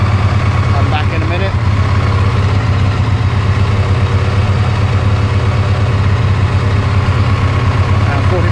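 A 1998 Ducati ST2 motorcycle engine runs at just over 2,000 RPM, a loud, steady, close mechanical drone with a deep low hum that holds even throughout.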